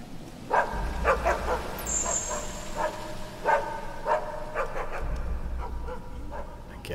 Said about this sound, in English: what do I do with the dog? Do I just let him bark?